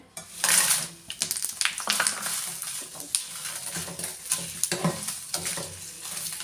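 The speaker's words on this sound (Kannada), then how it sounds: "ಮೆಣಸಿನ್ಕಾಯಿ ಎಣ್ಣೆಲಿ ಹುರ್ಕೊಳ್ಳೋದ್ರಿಂದ ಘಾಟು ಕಡಿಮೆ ಆಗುತ್ತೆ" Chillies fry in hot oil in a pan as a spoon stirs them, bursts of sizzling crackle mixed with scraping and clinking against the pan, close and uneven.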